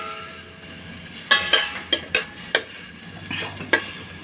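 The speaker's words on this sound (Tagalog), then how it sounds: "Simmer lang natin yan." Pancit canton noodles with soy sauce simmer and sizzle in a pan, with a steady low frying hiss and a series of sharp utensil scrapes and clinks as the noodles are stirred.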